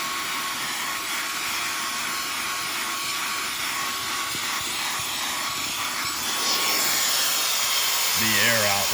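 A Koonie 77000 RPM cordless air duster runs on high over carpet as a steady, loud, high-pitched whirring blast, with a shift in pitch and rising intensity near the end.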